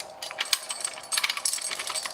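A new ratcheting lift tool that works like a giant ratchet strap, clicking down: a fast run of bright metallic clicks and rattles, close and moderately loud, with no talking.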